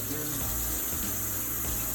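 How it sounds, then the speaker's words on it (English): Water splashes and pours into a pan of shredded chicken for tacos, a steady broad wash of liquid lasting the whole moment, close and fairly loud. "So now we're gonna add just a splash of water, just a little."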